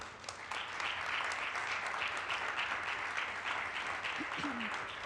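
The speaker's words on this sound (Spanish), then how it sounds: "Le voy a pedir un fuerte aplauso" Steady, loud applause from a church congregation during a Sunday service, continuing evenly throughout, with a brief voice near the end.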